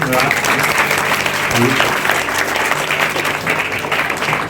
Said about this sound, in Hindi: यहाँ पर आए और उनको तालियों से स्वागत कीजिए।